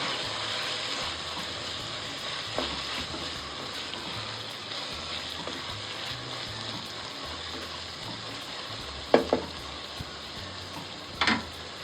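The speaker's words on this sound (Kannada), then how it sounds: "ಜೊತೆಗೆ ಬೆಳ್ಳುಳ್ಳಿ ಹಾಕ್ಕೊಳ್ತಾ ಇದ್ದೀನಿ, ಶುಂಠಿ, ಹಸಿಮೆಣಸಿನ್ಕಾಯಿ ಮತ್ತು ಗೋಡಂಬಿ ಇಷ್ಟು ಹಾಕ್ಕೊಂಡು ಚೆನ್ನಾಗಿ ಫ್ರೈ ಮಾಡ್ಕೊಡ್ತೀನಿ ನಾನು." Garlic, ginger, green chilli and cashews fry in a pan for chicken curry, a steady low sizzle with a few sharp spoon knocks and scrapes standing out near the end.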